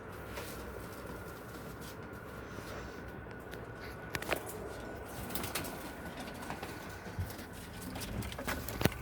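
Pigeons in a coop coo softly amid rustling, fluttering wings and light scratching, a busy low murmur of birds close by with occasional sharper flaps and pecks.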